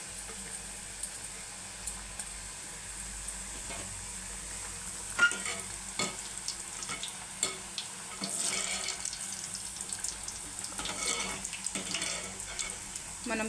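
Cut sweet pieces made with jaggery dropped one by one into hot oil, a low continuous sizzle with occasional sharper crackles and pops, fairly faint and close.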